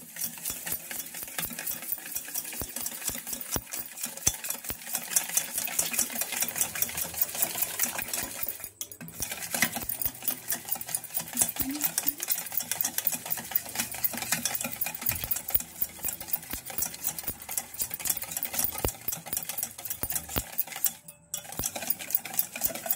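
A spoon scrapes and clicks rapidly against a bowl as sugar is stirred into a mixture, a dense, continuous rattling close at hand with two brief pauses and no talking.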